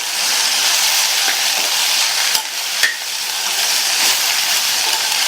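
Okra and peanut poriyal stirred in a pan with salt: a steady loud sizzle of frying throughout, with a couple of faint metallic clinks of the spoon against the pan.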